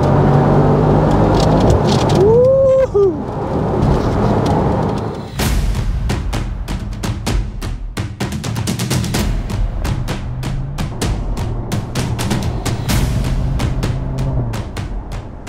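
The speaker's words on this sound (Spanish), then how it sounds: "aprovechas a oír el sonido de este motor" A Mercedes-AMG SL 63 4MATIC+ V8 revs up, then a rapid run of sharp exhaust pops and crackles follows over a rumbling engine, loud and close.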